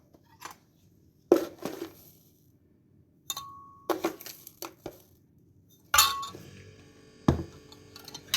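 A spoon stirring rice vinegar with two small spoonfuls of sugar in a glass for sushi rice, giving sharp, irregular clinks and taps against the container, fairly close, with no talking.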